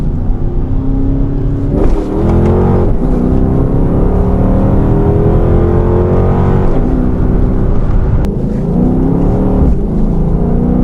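A 2013 Dodge Charger R/T engine roars loud and close from inside the car, with sustained revving that rises and falls as it downshifts through gears. The rumble is steady and there is no talking.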